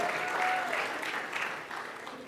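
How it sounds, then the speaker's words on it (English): An audience at an anniversary celebration applauds students, a brief dense round of clapping that tapers slightly toward the end, with a faint voice or whistle near the start. "Let's give those beautiful students another round of applause."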